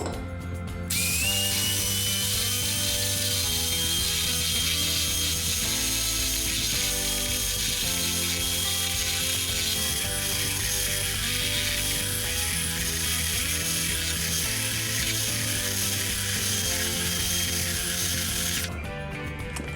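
An electric hand mixer whips egg whites for a chocolate colomba, a loud continuous whirring drone with a high motor whine that runs steadily for most of the time, starting and stopping abruptly.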